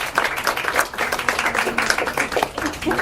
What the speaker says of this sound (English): so you got a whole set of round of applause just for standing up